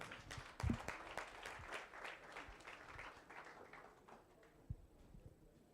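Applause for workshop finalists at a business technology workshop and expo, a fairly faint, thin round of clapping that fades after a few seconds.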